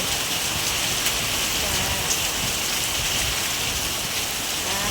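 Heavy rain pours down steadily with strong wind, a dense, even hiss of drops striking surfaces at close range. The downpour stays constant throughout, and there is no talk.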